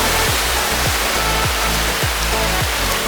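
Loud, continuous roar of rushing water with rhythmic low surges every half second or so, strong ocean waves crashing close by at Sabang Beach, Baler.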